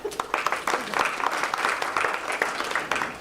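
Brief applause at a school board of education meeting, with moderately loud clapping from a modest crowd and distinct individual claps audible throughout.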